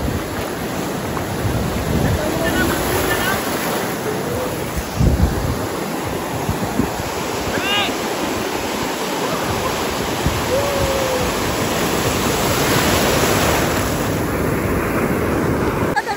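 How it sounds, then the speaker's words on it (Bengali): Sea waves wash and crash on a beach shore in a steady, loud roar with heavy wind buffeting the microphone throughout; no one speaks. "ঢেউ দেখো, সমুদ্রের ঢেউ"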